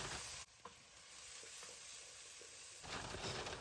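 Onion and chilli pieces frying in a pan for an Indian-style pasta, a steady close sizzle with a few stirring scrapes and a brief louder burst near the end, no talking.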